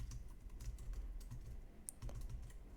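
Soft, quiet clicking of computer keyboard keys being typed in short irregular runs, close and alone with no voice over it.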